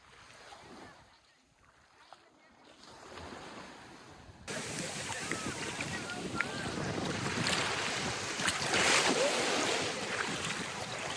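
Waves washing onto a beach at Tetouan, Morocco, a continuous broadband surf roar that grows louder partway through, with wind buffeting the microphone and no clear talking.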